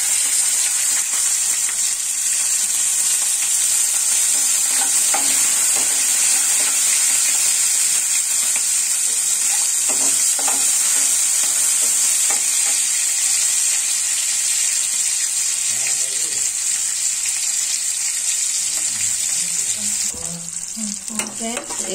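Onions frying in a pan with garam masala spices such as cinnamon, mace and cardamom, a steady loud sizzle running throughout with scraping stirs of a spoon, and no talking.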